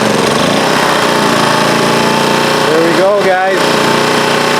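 A small generator engine runs steadily close by with a loud, rattling drone, while someone speaks briefly over it.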